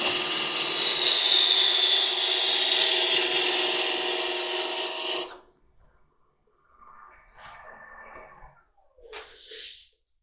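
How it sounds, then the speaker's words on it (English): Wood lathe shear cut on a long stem goblet, a steady close scraping and hissing of the tool against spinning wood for about five seconds, then stopping abruptly, leaving faint rustles and a soft whine. "So we'll hit it again with the shear cut, or planing cut."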